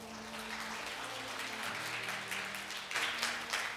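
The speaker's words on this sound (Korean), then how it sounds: "박수 부탁드립니다." Faint, steady audience applause fills a seminar hall at a film and TV visual effects talk, a continuous patter of many hands heard from a distance.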